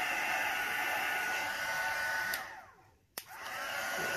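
A hair dryer blows steadily and loudly over alcohol inks on canvas, with a brief dip as it pauses near the end before the hum resumes.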